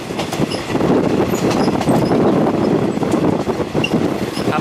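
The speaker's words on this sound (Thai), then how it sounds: "การเดินทางโดยรถไฟไทย" A Thai third-class train, service 233 from Surin to Bangkok, running between Klang Dong and Muak Lek stations, rumbles loudly and steadily with rattling carriages and clattering wheels, heard from inside the train.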